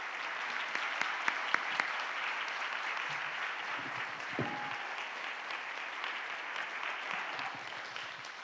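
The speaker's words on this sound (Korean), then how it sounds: "다시 한번 크게 박수." A congregation at a Sunday church service applauds steadily for several seconds, a soft, even clatter of many hands heard from a distance.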